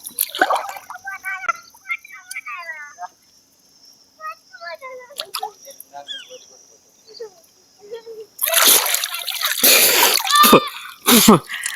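A loud splash of a person diving into the Ganga river, followed by churning and a second burst of splashing, after a stretch of quiet talking.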